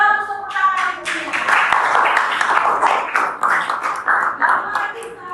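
Students clap together in a classroom, a dense, steady patter of many hands lasting several seconds, fairly close and loud, with some voices mixed in.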